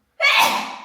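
A single sharp sneeze bursts out abruptly and close by, with a breathy, hissing release that trails off.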